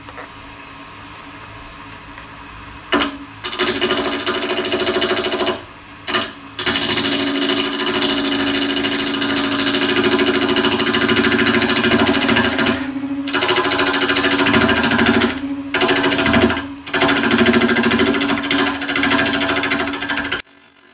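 A wood lathe turning walnut and purpleheart spins at 800 RPM with a steady, loud mechanical hum and rattling chatter, interrupted by a few brief stops and restarts.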